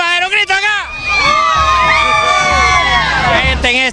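A crowd of spectators cheers and whoops at a horse parade in Pespire, Choluteca, with loud overlapping shouts, children's voices and babble filling the air continuously and close by.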